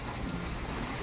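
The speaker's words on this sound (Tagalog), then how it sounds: "Ay, ang lakas pa ng ulan." Heavy rain falling in a steady, dense roar that fills the whole clip, close and loud, with no voices over it.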